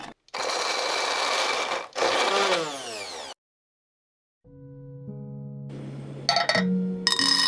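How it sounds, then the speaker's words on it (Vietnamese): An electric grinder whirs loudly as it purees cut onion and garlic for a Vietnamese pork head cheese recipe, running in two bursts with a drop in pitch, followed after a pause by a humming motor and clattering. "Còn hành và tỏi này thì mình sẽ cắt cho vô cối để xay nhuyễn nha các bạn"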